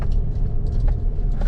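A Chevy Colorado ZR2 pickup in 4-high crawls over off-road terrain, a steady low engine rumble with faint knocks and rattles from the rough ground.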